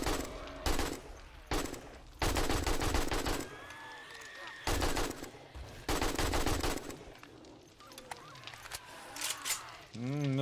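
Rapid automatic gunfire in 7 Days to Die comes in several loud, sustained bursts separated by short pauses, with a player talking in the gaps.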